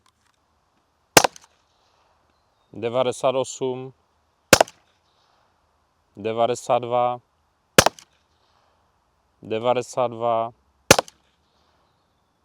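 A RAM self-defense gun powered by a CO2 cartridge fires four sharp, loud, close shots at steady intervals. Between the shots, someone speaks.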